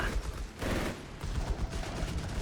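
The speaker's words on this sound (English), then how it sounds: "he's utterly pinned down and getting massacred there by the Vickers at pretty much point blank range" A Vickers machine gun fires in a Company of Heroes 3 battle, a dense, noisy burst of rapid gunfire with overlapping shots and battle din, loud and continuous across the moment, no clear voices.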